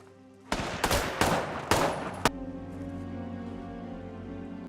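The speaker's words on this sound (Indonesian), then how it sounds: "Robert yang lengah malah ditembak oleh cucu Lorenzo tepat di punggungnya." Gunshots in a mafia action film: about five loud, sharp shots fire in quick succession, the last one abrupt, followed by a lingering tonal ring under a quiet soundtrack.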